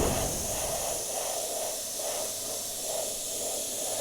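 An airbrush sprays paint as overspray onto a zombie figure's flesh areas, giving a steady, close hiss that pulses gently in soft waves across the whole stretch with no voices.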